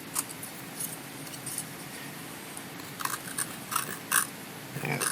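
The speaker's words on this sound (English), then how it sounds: "Still using a rough out knife too." Close, faint clicks and scraping cuts of a rough out knife carving a wooden Santa ornament by hand, sparse and irregular over a steady low room hiss, no talking.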